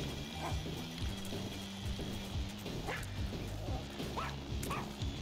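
A dog barks in the video game The Binding of Isaac: Rebirth, repeated short yipping barks at an uneven rhythm over a background of game sound effects, loud and close.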